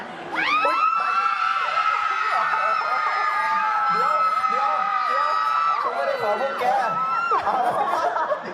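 A large audience at an anime event in Thailand, facing a VTuber stage show, screams and cheers loudly and continuously, with shrill high-pitched shrieks and whoops close by.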